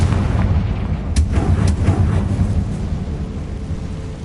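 Heavy low-frequency blasts rumble continuously from a Confringo blasting spell in Hogwarts Legacy on Hard difficulty, with a few sharp crackles near the start and a sustained booming roll throughout.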